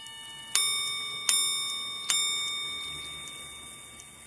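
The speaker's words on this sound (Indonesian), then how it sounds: "Suara gong yang dihasilkannya pun didesain dengan suara yang lembut dan jernih, terinspirasi dari bunyi lonceng kuil tradisional." A Seiko Credor minute repeater watch strikes three soft, clear gong chimes like a temple bell, evenly spaced, each ringing out with a long shimmering decay, close and alone.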